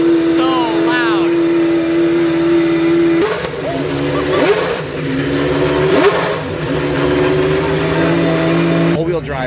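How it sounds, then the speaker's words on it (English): A stripped-out Solus GT race car engine idles very loudly nearby, with a steady, heavy drone and slight swells in pitch throughout, while voices speak briefly over it. "The Solus GT idling. This thing is so loud."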